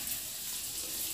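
Water pours steadily into a cooking pot on a stovetop, a continuous close gushing splash with no speech over it.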